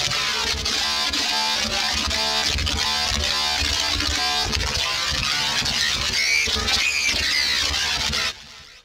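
Zebra synthesizer patch using a scrambler with an LFO and a fractals effect, producing dense, buzzing, warbling electronic noise with shifting glitchy tones, loud and continuous before cutting off abruptly near the end.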